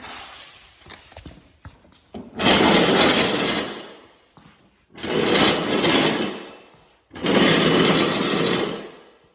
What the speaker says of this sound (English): All right, so we should be able to just slide this out right now.